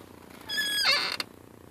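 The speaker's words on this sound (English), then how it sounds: "these spot welds begin to fail, which create an audible squeaking noise" A Subaru clutch pedal squeaks as it is pressed, failing spot welds near the firewall giving one rising, creaky squeal that lasts under a second, close and fairly loud in an otherwise quiet space.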